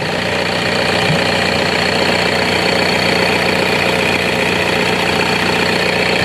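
A Toyota Innova engine runs steadily with a newly fitted drive belt, a constant close idle hum with a faint ticking mechanical texture and no pauses.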